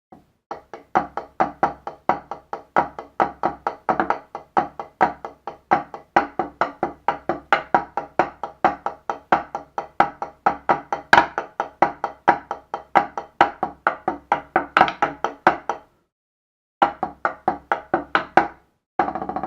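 Rapid drum hits in a steady, busy pattern, snare cracks mixed with deeper tom thuds, played alone and close with one brief pause near the end.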